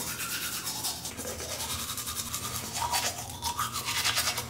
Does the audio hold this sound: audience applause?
no